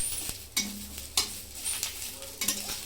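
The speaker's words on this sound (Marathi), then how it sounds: "इथे मिरची आणि लसूण भाजून झालेला आहे, तर मी इथे गॅस बंद करून घेते।" Green chilies and garlic roasting in a pan for Marathi thecha crackle with a steady, close sizzle, broken by several sharp scraping stirs of a spatula at regular intervals; no one speaks.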